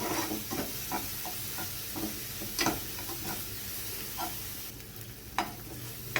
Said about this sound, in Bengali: মশলাটা আবারও ভালোভাবে কষিয়ে নেব।